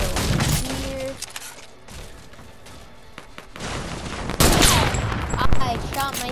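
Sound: gunshots in the video game Fortnite

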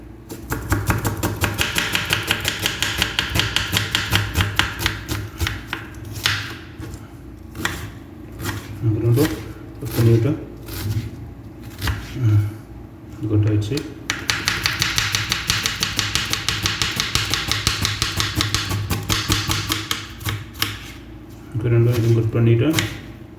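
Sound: chicken being chopped with a knife

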